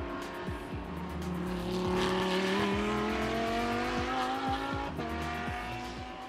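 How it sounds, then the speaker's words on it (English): Thailand Supercar GTC race cars at Sepang International Circuit, a loud continuous engine roar as cars pass close with rising and falling revs and gear changes, possible tire squeal, no talk. "Coming in for GTC, Thomas Raldorf comes in first for GTC class"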